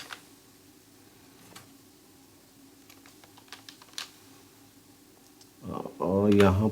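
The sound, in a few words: typing code on a computer keyboard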